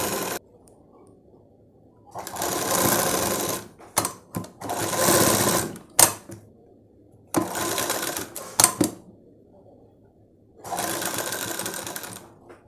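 A sewing machine stitches the lining of a Punjabi dress top in four separate bursts of whirring, each lasting one to two seconds, with quiet pauses and soft handling clicks between them.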